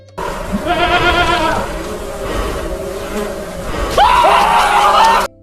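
Synthetic goat bleats ring out twice, a wavering cry early on and another near the end, over a steady background hum.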